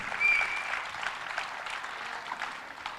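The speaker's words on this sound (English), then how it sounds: "Let's give her a big round of applause." Audience applause at the Nach Nach Show, a Sindhi stage program in Dubai, honoring Mrs. Koshi Lalwani; steady, moderately loud clapping from a crowd that holds throughout without fading.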